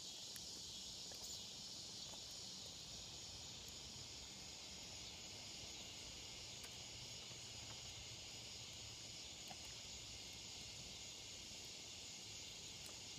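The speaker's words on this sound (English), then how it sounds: "Love the sound of the southern swamps." Southern swamp ambience with a steady, even insect drone, likely crickets, running at a constant level throughout, with faint rustles and no voices.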